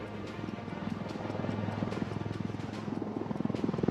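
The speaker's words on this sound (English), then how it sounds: "you're now seeing the aircraft touching down" A Sukhoi Su-30MKI fighter jet touches down at the Aero India 2023 air show in Bangalore, a loud, steady engine roar with pulsing rotor-like throb carrying throughout.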